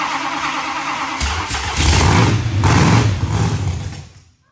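A 1941 Willys engine that has sat for ten years cranks with a rapid starter whirr, catches briefly and sputters louder for a couple of seconds, then dies away, close and with no talk.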